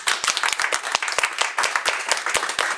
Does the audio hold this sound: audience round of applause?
yes